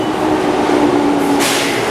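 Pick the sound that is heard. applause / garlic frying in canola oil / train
train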